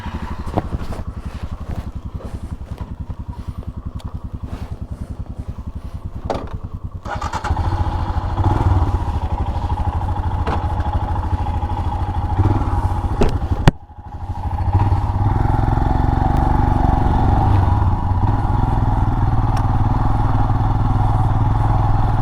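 Royal Enfield Himalayan motorcycles ride a dirt track, the single-cylinder engines throbbing loud and close, with a brief clatter before the throttle opens into a strong sustained roar.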